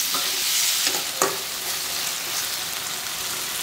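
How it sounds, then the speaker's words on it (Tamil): Two medium tomatoes, cut into halves, sauté in a pan with ginger and garlic for a chana masala gravy. They give a constant close sizzle while a spoon stirs and scrapes them a few times. "தக்காளி நல்லா வதங்கிடுச்சு,"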